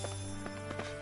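Several quick hoof clops from a horse in the game Tales of Arise, evenly spaced over a steady hum of background music.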